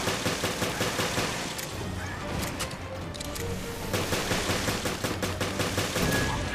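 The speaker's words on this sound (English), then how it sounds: "I like to go a little bit up and then move back as I shoot them." Repeated pistol shots ring out against hunter creatures in Resident Evil Revelations, a steady run of sharp reports spread through the action over continuous game ambience.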